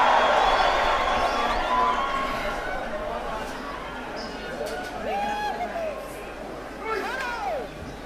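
A crowd at a 2014 OFC Champions League final football match between Amicale FC and Auckland City roars loudly at first, then settles into a broad sustained murmur with a commentator talking over it and whistles rising near the end.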